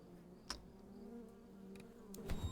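A swarm of bees from a disturbed hive in the video game Knock On The Coffin Lid, a steady, fairly close droning buzz with wavering tones, a few brief clicks and rustles, and a louder thump near the end.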